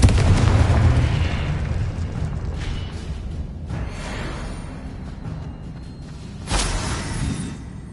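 Confringo blasting spell in Hogwarts Legacy bursts into fiery explosions: a loud blast at the start, quieter rumbling between, then another sharp explosive burst toward the end.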